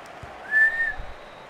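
A referee's whistle in a football match in the video game FIFA 18 gives one short, clear blast, held for about half a second over a low crowd murmur.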